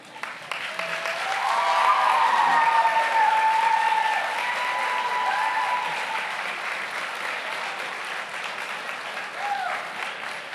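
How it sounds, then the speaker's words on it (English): Nursing graduates at a university pinning ceremony give a loud, sustained round of applause that swells within two seconds and then slowly thins over ten seconds, with a few voices and cheers mixed into the clapping. "try to beat the volume that your loved ones had when you got your pins in saying thank you with a round of applause"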